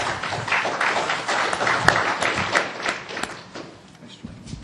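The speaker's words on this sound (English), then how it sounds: "Let's give a round of applause to our speakers." A conference audience applauds its session speakers after a talk on VFDs, with steady mid-level clapping from many hands across the room that thins out toward the end.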